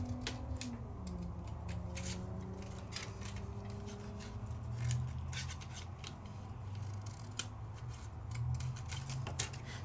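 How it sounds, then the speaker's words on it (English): Scissors snip die-cut paper grass for a 3D interactive slide box card, a series of light, quick cuts close by over a steady low background hum, with no voices. "there's a little bit of a line in between here and in between there that I just need to snip"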